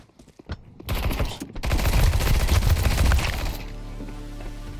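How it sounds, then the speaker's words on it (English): Gunfire in the Counter-Strike 2 video game: a few sharp pistol cracks, then a loud sustained burst of rapid overlapping shots that fades to a quieter ringing hum. "I try to kill him with my pistol"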